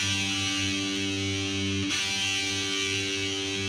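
Distorted heavy metal electric guitar rings out a sustained chord, a thick buzzing tone that shifts to a new voicing about halfway through and keeps ringing, loud and close with no voices.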